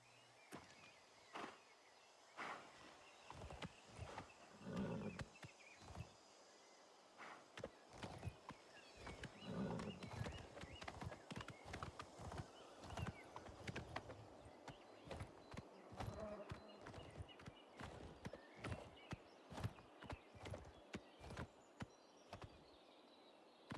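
A horse in the video game Oblivion Remastered clops along with steady, fairly quiet hoof beats building into a brisk rhythm, with faint whinny-like calls early on.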